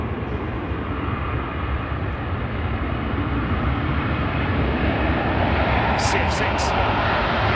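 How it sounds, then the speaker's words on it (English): Boeing 777 powered by Pratt & Whitney engines at London Heathrow, a continuous broad jet roar held at steady loudness, with brief faint ticks near the end. "777. Pratt and Whitney's."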